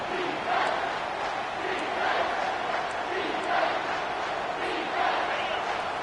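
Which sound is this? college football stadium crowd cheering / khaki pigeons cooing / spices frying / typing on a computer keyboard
college football stadium crowd cheering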